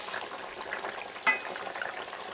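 Raw banana frying in a pan for a fish curry, a soft continuous sizzle with a brief sharp clink near the middle, steady and close.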